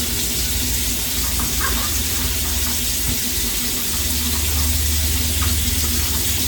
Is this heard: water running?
yes